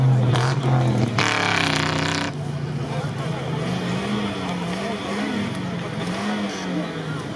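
Car engine revving and droning under way on an off-road course, with a loud rev burst early on, then a steady rumbling drive, while people talk over it.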